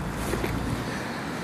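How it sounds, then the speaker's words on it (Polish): Wind blows outdoors straight into the microphone, a loud continuous low rumble and buffeting that fills the whole moment with no voice heard. "być może wiatr zagłuszył moje słowa"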